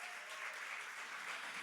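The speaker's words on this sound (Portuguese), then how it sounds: "Você pode aplaudir ao Senhor nessa manhã" A church congregation at a Sunday-morning intercession conference applauds steadily for a short burst, a dense wash of clapping at moderate distance with no voices over it.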